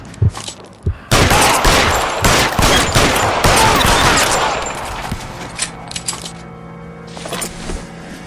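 Sustained gunfire from the L.A. Noire video game: a couple of isolated shots, then a dense, loud burst of rapid automatic fire for several seconds that thins into scattered shots and mechanical clatter.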